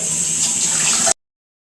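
Water runs steadily from a kitchen tap while dishes are being washed, a close, even gush that stops abruptly after about a second.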